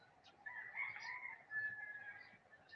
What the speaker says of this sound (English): Well, I hear the chickens.